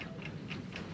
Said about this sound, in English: Can you hear it ticking?